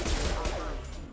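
Rapid gunfire in a video game shooter, loud and dense bursts of shots packed together in a short stretch.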